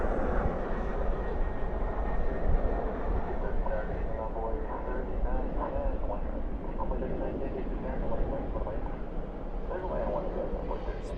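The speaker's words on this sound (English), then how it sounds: "Spoilers up, reversers out on the CRJ 700." A CRJ 700 jet lands at night at DFW with spoilers up and thrust reversers deployed, producing a loud, sustained rumbling roar with people talking over it.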